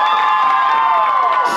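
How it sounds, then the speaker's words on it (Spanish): A crowd at a norteña dance contest in Chicago cheers and claps for a dancing couple, a loud continuous roar of whoops and shouts close by with no clear speech. "El aplauso para Ángel y Selene."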